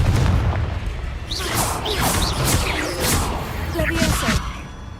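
A Confringo fire spell blasts in the Hogwarts Legacy video game, with whooshing swishes and booming impacts repeating over roughly four seconds against a steady, loud backdrop of game sound.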